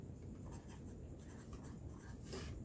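A pen writing out a math solution on paper, a soft, faint scratching that runs continuously under a low background hiss.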